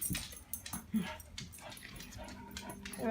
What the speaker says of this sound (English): So anyway, that's my dog.